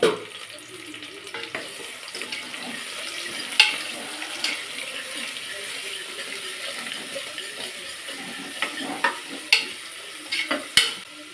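Soft, steady sizzling of onions sautéing in oil, with occasional clinks and stirring scrapes from a utensil, close and fairly quiet.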